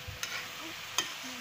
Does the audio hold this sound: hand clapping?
no